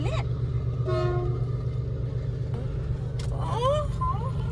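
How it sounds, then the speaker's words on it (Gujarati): A train rumbles past nearby with a steady low drone, brief horn toots and squeals on top, and voices calling out over the noise. "રેલગાડી જો રેલગાડી જો"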